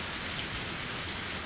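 Heavy rain pours down in the Higurashi When They Cry visual novel game, a dense, steady hiss of downpour filling the scene evenly and continuously with no voices.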